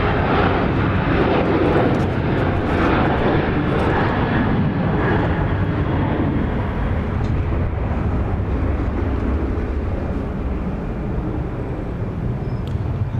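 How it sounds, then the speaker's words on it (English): Southwest airliner taking off from runway 31 left at Dallas Love Field, a loud, sustained jet engine roar that fills the whole stretch and eases only slightly toward the end, with no voices. "Southwest 611, runway 31 left, clear for takeoff, caution, wait turbulence."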